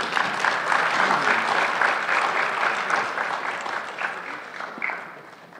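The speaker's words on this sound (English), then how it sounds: "ask you to offer your applause for them." Audience applause at a high school awards ceremony, a steady dense wash of many hands clapping that holds for several seconds and thins slightly toward the end.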